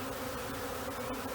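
A swarm of honeybees buzzes continuously during swarm collection with a bee vacuum, a dense, steady outdoor drone close by with no talk.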